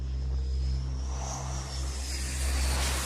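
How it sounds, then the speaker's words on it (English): Aircraft engine roar on the deck of the carrier USS Gerald R. Ford as F-18 Hornets launch from the bow catapults, a loud, steady jet rumble holding throughout. "While aircraft are being launched from the catapults at the bow"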